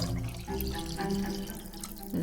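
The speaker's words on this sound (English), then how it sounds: "I'm going to add water almost to the top." Water poured from a container into cups, a steady, close pouring stream that runs continuously with a brief splash near the end.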